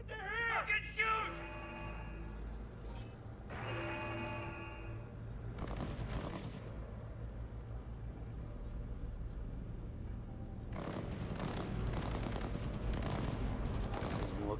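Shootout gunfire in Cyberpunk 2077, with bursts of shots and impacts under shouted voices and game music, growing denser and more sustained toward the end.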